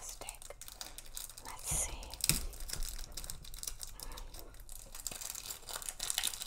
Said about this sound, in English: Crisp plastic.